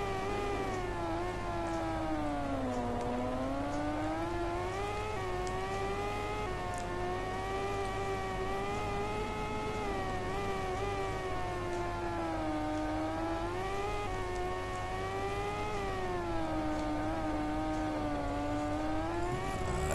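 A racing motorcycle engine in MotoGP 13 whines steadily at high revs, pitch rising and dipping as it shifts and brakes, loud and continuous throughout.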